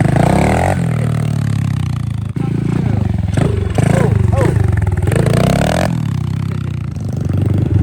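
A dirt bike engine revs loudly indoors while a rider tries a wheelie, the buzzing motor rising and falling in pitch through repeated throttle blips, with people talking over it.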